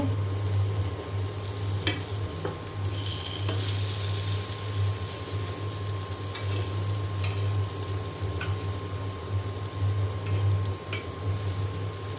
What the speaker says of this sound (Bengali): আমার এক পাশ ভেজে নেওয়া হয়ে গিয়েছে আমি এখন এই যে উল্টাই দিচ্ছি